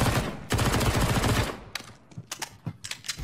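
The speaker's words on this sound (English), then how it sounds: "Shooting." Video game gunfire rattles off in a loud, sustained automatic burst for about a second, then breaks into sparse, sharper single shots and short pops at a lower level.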